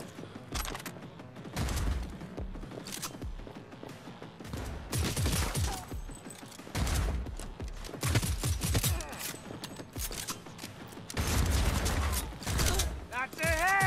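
Repeated bursts of gunfire in Cyberpunk 2077 combat, sharp shots in irregular clusters with quieter gaps between them, and a voice heard in the background.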